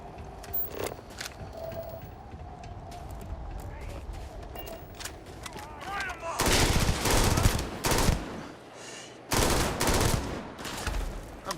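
Gun firing in Starfield, scattered sharp shots early, then dense loud volleys of rapid fire with a brief gap between them, mixed with speech.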